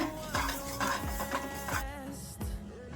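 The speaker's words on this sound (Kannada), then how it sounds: "2 ಟೇಬಲ್ ಸ್ಪೂನ್ ಜೀರಿಗೆ ಹಾಕೊತಾ ಇದ್ದೀನಿ. ಇದು ಕೆಂಪಾಗೋವರೆಗೂ ಹುರ್ಕೋಬೇಕು." Cumin seeds roast in a pan over medium flame while a spoon stirs them, giving a close, rhythmic series of scraping strokes and clinks against the metal with a light dry sizzle underneath.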